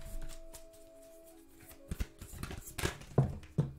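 Cards riffle and snap as a tarot deck is shuffled, with a faint tone fading out at first and sharper slaps near the end.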